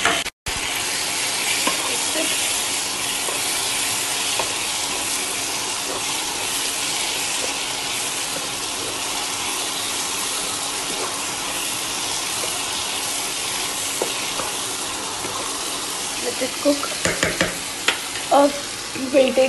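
Tomatoes fry and sizzle loudly in a pan with the spices for an okra gravy, a dense continuous hiss with stirring clatter near the end.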